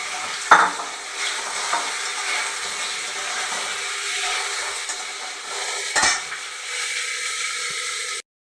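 Eggs slide into hot oil spiced with panch phoron and fry in a pan, giving a steady bright sizzle with two louder spatters, one near the start and one later, and no talking.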